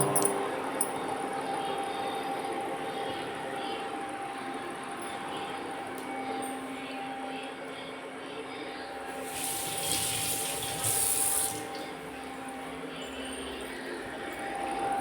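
Steady hiss of liquid with grapes bubbling in a pot, continuous and close, with a brief brighter surge of sizzling midway.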